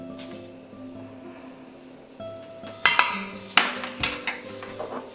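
A teaspoon scoops adobo spice blend in a kitchen, with several light metallic clinks and taps of spoon against container rising over a faint background hum.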